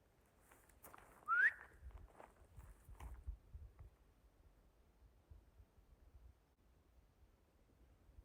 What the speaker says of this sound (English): I'm hearing a whistle.